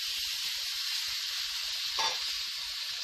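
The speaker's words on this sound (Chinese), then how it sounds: "大火煎佢30秒" Beef sizzles over high heat in a hot oiled pan, a steady close hiss of frying with a brief stronger crackle partway through, no voices.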